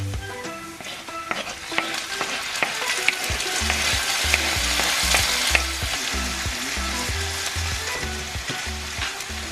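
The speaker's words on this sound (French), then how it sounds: "pendant que ça cuit rapidement, là j'ai mis mes poivrons" Steady loud sizzling of bell peppers frying in a pan, with occasional stirring clatter and scrapes throughout.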